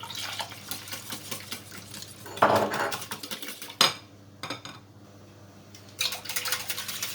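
Beaten eggs with oil and milk are whisked in a bowl. Utensil clinks and scrapes come in close, uneven bursts, with short quiet pauses between them.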